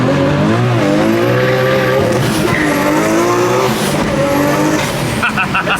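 Nissan R32 GTR with an HKS 2.8 engine pulls hard through the gears, its loud rising engine note climbing and dropping with each shift, up close and continuous.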